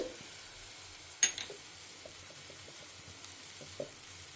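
A low, steady sizzle of hot oil crackles faintly as salt, turmeric and asafoetida are tempered, with a sharper clink and a couple of soft stirring knocks.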